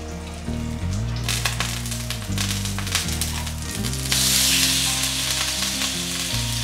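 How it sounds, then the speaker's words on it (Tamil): Squid pieces frying in hot oil in a pan on a stove, giving a steady, close sizzle that runs throughout under loud background music. "இப்போ இந்த அடுப்பில் வந்து மீன் வறுக்க போகிறேன்."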